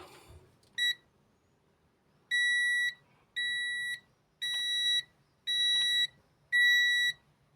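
A multimeter with an AI auto-detect mode beeps as it is held near a brown phase wire, giving a quick short chirp followed by five longer steady high-pitched tones at regular intervals, loud and close.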